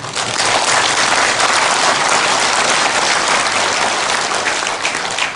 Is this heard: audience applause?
yes